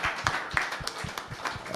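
A small scattered round of applause for a panel team at a conference, with light, moderately spaced claps at modest volume over a short stretch.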